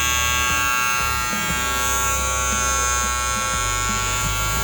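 An adjusted hair clipper, set to a zero gap, runs continuously for an RPM test, giving a loud, close, steady electric buzz with a strong whine and no pauses.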